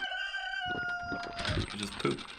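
Chickens clucking and a rooster crowing in the farming strategy game Beasts and Bumpkins, with a rising crow early on and scattered clucks under a man's speech.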